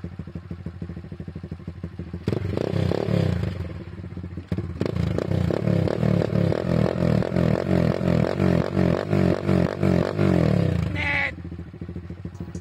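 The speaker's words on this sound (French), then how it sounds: "elle est pas belle la petite moto là" A small YCF pit bike motorcycle, a 2020 model, runs loud and close, its engine revving in rapid pulsing bursts with clattering mechanical chatter for about nine seconds before cutting off.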